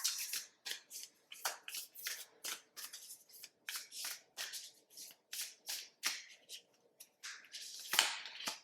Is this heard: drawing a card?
yes